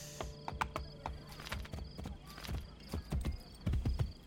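Horse hooves clip-clop at a steady walking rhythm in the video game Assassin's Creed Brotherhood, a run of fairly close, crisp knocks with no talk over them.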